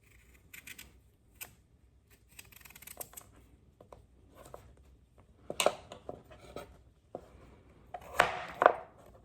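Knife cutting pumpkin into cubes on a board, sparse irregular taps and chops, faint at first and then a few louder crunching cuts near the end.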